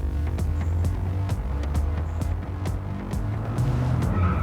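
A mini truck drag races a diesel-swapped Torino wagon. A continuous, loud engine roar runs throughout, broken by repeated sharp clicks and knocks as the vehicles run down the strip.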